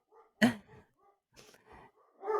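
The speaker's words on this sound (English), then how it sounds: "my dogs are angry about this. They're all worked up." Worked-up dogs let out a few short, scattered barks and yips with whimpering between them. The bursts are close but moderate in level and separated by brief silences.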